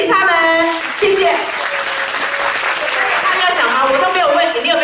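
An audience at a primary school music talent show claps after a drum performance. The applause runs continuously under a loud voice that talks over it the whole time.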